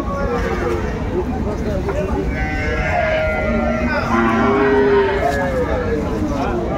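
Cows low at the Aftabganj cattle haat, where dairy cows with calves are sold. Drawn-out moos rise over steady crowd babble, and nearby people talk throughout.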